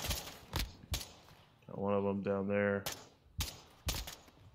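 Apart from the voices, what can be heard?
gunshots in a video game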